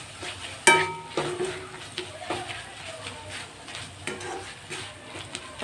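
A spoon stirring grated coconut filling mixed with soft sandesh in a pan, with soft scraping and light sizzling, plus an occasional sharp clink of utensil against metal, close and fairly quiet.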